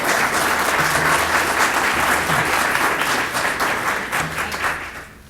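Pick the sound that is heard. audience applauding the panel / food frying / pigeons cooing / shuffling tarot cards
audience applauding the panel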